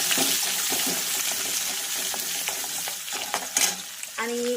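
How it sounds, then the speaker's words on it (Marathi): Ginger garlic paste sizzles and fries in a pan while a utensil stirs it, giving steady crackling with scraping strokes and a brief clink near the end; no talking. "अद्रक लसूणची पेस्ट आणि एक वेळेस आपण याला हलवून घेणार आहोत छानपैकी असं"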